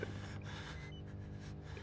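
Heavy, ragged breathing of a character in the horror video game Outlast, steady and close with gasping, snorting inhales over a constant low drone, no talk.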